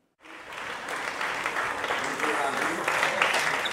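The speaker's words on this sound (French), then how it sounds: "C'est sous les applaudissements que les joueurs de l'équipe internationale et les joueurs de l'équipe martiniquaise sont reçus" Applause breaks out as international and Martinican handball players are received, a dense crowd clapping that starts abruptly and swells slightly, with faint voices mixed in.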